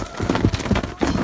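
Horses in a village stable with bedding on the floor, giving hooves stamping and clopping in an uneven rhythm along with snorting and whinny-like calls, close and fairly loud.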